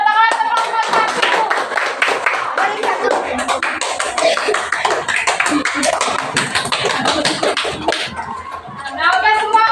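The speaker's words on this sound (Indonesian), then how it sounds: "Ya, tepuk tangan teman-teman satu." A classroom group of children and a teacher bursts into applause, many hands clapping quickly and loudly for several seconds, with some voices mixed in.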